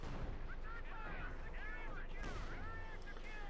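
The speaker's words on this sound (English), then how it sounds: "Shoots up closer with the 75mm shells." Battle sounds from Company of Heroes 2, with 75mm howitzer shells firing amid scattered gunfire and booming impacts, muffled and layered under speech.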